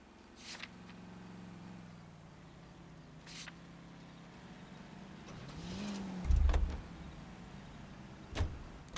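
A car in L.A. Noire, the 1940s detective video game, idles and drives with a steady low engine hum, joined by a few sharp clicks and a louder thump near the end.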